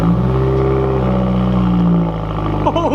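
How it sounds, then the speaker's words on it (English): A 2018 VA Subaru WRX with a straight-pipe axle-back exhaust and no mufflers, running on a warm start with no tune. It revs loudly and steadily up close, with a deep raw drone and a brief dip near the end. "It's just a straight pipe now, instead of these big mufflers on that will mute the exhaust."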